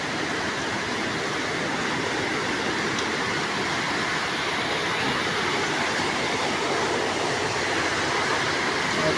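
Heavy rain and rushing floodwater form a dense, steady roar that stays loud and even throughout, with no voices.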